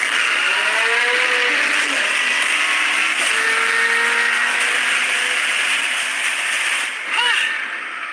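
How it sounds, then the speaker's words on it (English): A twin-turbocharged V8 hypercar with a carbon fiber body drives at speed, its steady, loud roar carrying a rising and falling whine throughout, heard from on board with a voice now and then. "The reason this car is one of the fastest on the planet is because of its twin turbocharged V8 engine"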